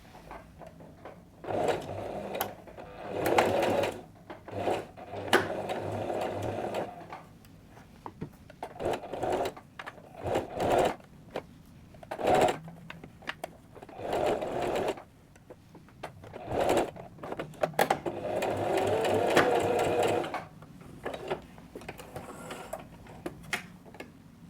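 A sewing machine stitches boxer shorts fabric in repeated bursts of rapid mechanical whirring, each run stopping and starting with short pauses, close and fairly quiet throughout.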